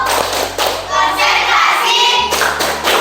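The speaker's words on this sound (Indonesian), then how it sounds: "mari kita tepuk konsentrasi" A group of children doing a rhythmic concentration clap in a classroom, sharp patterned claps in quick bursts with short pauses, loud and close, with chanting voices mixed in.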